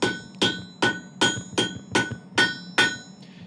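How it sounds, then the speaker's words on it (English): A cross peen hammer strikes hot steel being forged into a firesteel: eight sharp, ringing blows at a steady, even rhythm, close and loud, with no talk. "turn it around to the side we didn't work, put a few of the cross peen into it, get these divots going."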